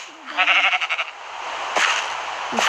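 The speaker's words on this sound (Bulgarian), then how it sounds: "Овца." Sheep in the video game Minecraft bleating, a wavering nasal baa followed by a couple more shorter bleats, close and clear against quiet background.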